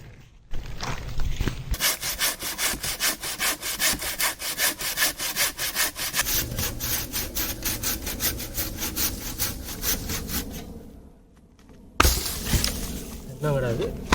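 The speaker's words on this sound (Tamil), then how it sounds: "கீழே விழுந்து கிடக்கிற குச்சை கிளைகளை நம்ம எடுத்துக்கலாம். எடுத்துகிட்டு வந்து நம்ம அறுத்து உடச்சி எரிக்கிறதுக்கு பயன்படுத்திக்கலாம்." A handsaw cuts through fallen tree branches gathered for a campfire at a Danish campsite, with steady rhythmic back-and-forth strokes running for about ten seconds, a short pause, then sawing resuming close by.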